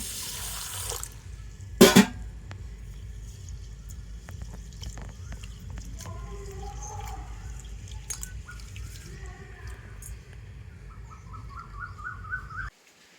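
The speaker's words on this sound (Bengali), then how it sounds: "তো প্রথমে আমি চালটাকে জল দিয়ে ভালো করে ধুয়ে নেব।" Gobindobhog rice washed with water in a large bowl, a steady wet swishing and dripping with a brief louder splash near the start, continuing alone at moderate loudness.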